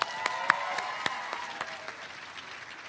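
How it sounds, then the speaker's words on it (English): Graduation ceremony audience applauding with scattered sharp individual claps over a steady wash of clapping, fairly distant and moderate in level. "One more round of applause for Bill and Carol."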